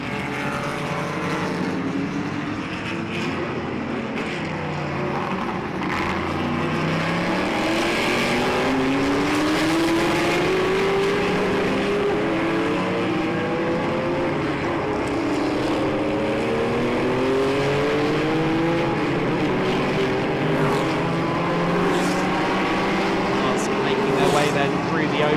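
Classic racing cars, Cobras among them, roar past at the Jarama circuit, engines rising and falling through gear changes in a continuous loud blur, while a commentator talks over the noise.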